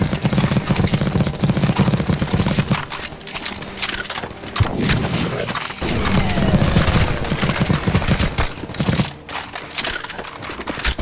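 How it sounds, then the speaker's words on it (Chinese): Sustained automatic gunfire fills a CS:GO Zombie Escape round on ze_tibia, many weapons firing at once in a thick, continuous barrage, briefly thinning around the middle before resuming at full volume. "按 S 往上开枪。"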